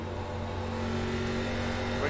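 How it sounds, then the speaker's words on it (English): ARCA stock race cars lapping Phoenix Raceway, heard onboard: a steady loud engine drone with strong harmonic tones, rising slightly toward the end as the car accelerates. "Just listen to these cars."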